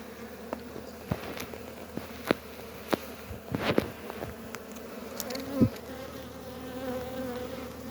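Honeybees from a package colony buzz steadily around hive frames during close beekeeping work, a continuous hum broken by faint taps and knocks of handled equipment, with no talking.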